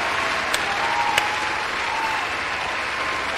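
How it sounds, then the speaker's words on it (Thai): A crowd claps continuously, a steady wash of applause at moderate volume, with a couple of sharper claps standing out. "ปรบมืออีกครั้งนึง"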